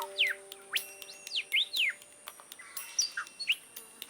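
A mimic bird imitates R2-D2-style robotic beeps: sharp, sweeping electronic-sounding chirps and whistles in irregular bursts, close and distinct, with quieter bird calls behind.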